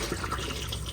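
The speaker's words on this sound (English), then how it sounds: "you'll get a flow of water into the bowl" Motorhome toilet in an Auto-Trail F62 letting a flow of fresh water from the pump into the bowl, a steady close rushing wash of water throughout.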